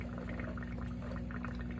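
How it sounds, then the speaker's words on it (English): Water pouring into a hydroponic tank, a faint, steady trickling and bubbling under a low constant hum. "We are filling up the hydroponic tank"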